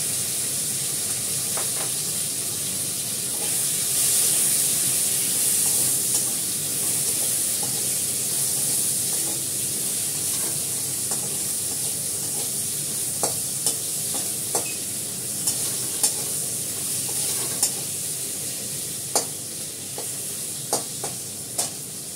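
Green beans and potato frying in a pan, a steady sizzle with scraping stirs that grow sharper and more frequent toward the end, close and fairly loud.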